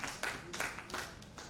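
Brief scattered clapping from an event audience, a few light handclaps close together over about a second and a half, fairly faint.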